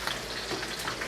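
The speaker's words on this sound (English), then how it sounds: "the skin side is now frying in its own fat and rendering and turning into basically chicharron" Pork skin fries in its own rendering fat in a pan for sisig, a close, steady crackling sizzle with light pops, alone without voices.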